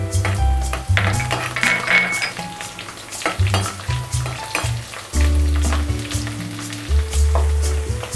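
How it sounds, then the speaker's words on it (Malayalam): About twelve garlic cloves, split down the middle, sautéing in a pan after ginger has softened. A loud, continuous sizzle comes with repeated stirring scrapes and light clinks, over low background music. "ഇഞ്ചി നന്നായിട്ട് വഴന്നതിന് ശേഷമാണ് നമ്മൾ വെളുത്തുള്ളി ഇടുന്നത്."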